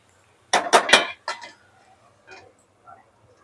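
A lid is set down on a pan of prawn curry, giving a quick cluster of three or four metallic clinks and clatters followed by a couple of softer knocks, close and alone.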